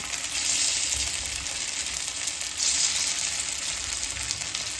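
Stuffed sabudana vadas fry in a small amount of oil, giving a steady, close hiss and crackle that swells slightly at moments and carries on without any talk.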